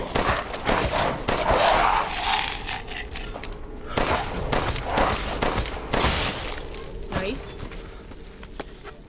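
Gunfire in Resident Evil Village comes as a burst of sharp, rapid shots followed by scattered bangs and mechanical clatter over several seconds, with a voice talking throughout.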